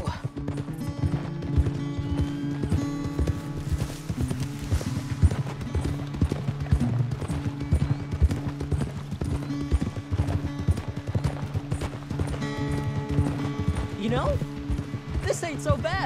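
Steady, rhythmic clip-clop of video game horse hooves on a hard surface, continuous throughout, with faint music and occasional voices underneath.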